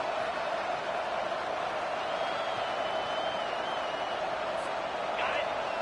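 Stadium crowd at a night football game, a broad continuous roar of many voices held at a steady level, fairly distant and diffuse, with a faint whistle-like tone drifting above it.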